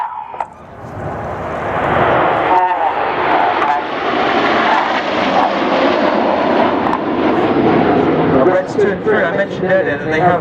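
RAF Red Arrows Hawk T2 jets passing overhead in formation at an air show in Welshpool, a loud sustained roaring rumble that swells and holds, with a commentator talking over it.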